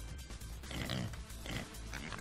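Pig in a slaughterhouse escape video game, a dense run of close, loud grunts and snorting oinks pulsing steadily over a low rumble, no talking.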